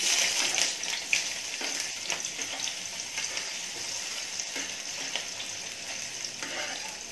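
Onions sizzle and fry in a pan for masoor dal, a steady crackling hiss with occasional stirring scrapes, close and moderately quiet.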